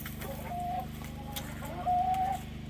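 Laying hens cluck nearby in soft, drawn-out calls and short murmurs, with a low steady hum underneath.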